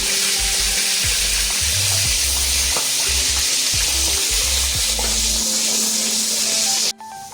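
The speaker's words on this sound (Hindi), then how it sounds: "प्याज है वो मैं इसमें ऐड कर रही हूँ।" Chopped onion frying in a pan for a traditional desi kari, a loud steady sizzle with repeated stirring scrapes and clunks, ending in a sudden sharp burst of spitting as a drop of water hits the hot oil.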